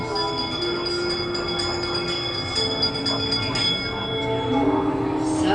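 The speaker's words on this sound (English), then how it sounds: "Give us a hint by ringing the bells." Bells ring inside Disneyland's Haunted Mansion, sustained chiming tones layered over a rumbling ride ambience, with a voice speaking over them.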